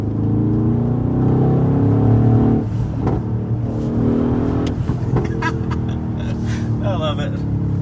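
Engine of a Mercedes-AMG GLE63 S SUV held at about 4,500 RPM, a sustained loud growling roar heard from inside while driving, with someone speaking over it now and then.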